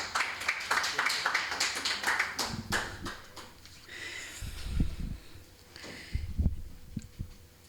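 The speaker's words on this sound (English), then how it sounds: "May we please give a round of applause as she comes up?" An audience at a healthcare platform launch applauds, with quick, close claps at first that thin into scattered claps and soft thumps toward the end.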